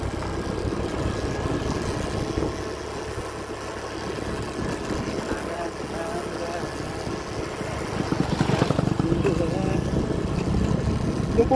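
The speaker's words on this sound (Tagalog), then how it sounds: "Smooth din naman yung takbo ng motor." A Honda Click scooter hums steadily along a road, its engine drone and wind noise continuous and fairly close, with a louder surge near the end.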